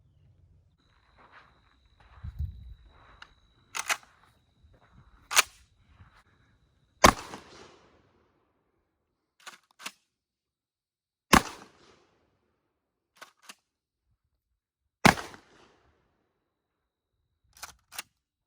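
Kel-Tec KSG 12 gauge pump shotgun fired outdoors, about ten sharp booming shots spaced a second or two apart, with faint handling clicks and shuffling between blasts.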